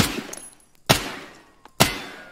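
Three sharp single gunshots ring out during aim practice in Escape From Tarkov, evenly spaced roughly a second apart, each loud and close with a short decaying tail.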